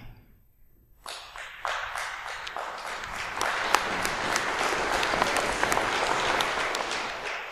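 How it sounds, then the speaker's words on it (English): Clapping breaks out in mid-speech from an audience at a talk on public education. It starts from near silence with a few claps, then quickly swells into steady, full applause that holds until the end. "I don't often get applause in the middle of my speech"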